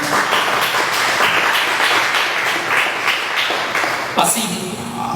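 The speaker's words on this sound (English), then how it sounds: "Give him a round of applause, everybody" A crowd at a motivational real estate event claps for a young man called out from the audience, lively clapping with individual claps standing out, then a voice cuts in near the end.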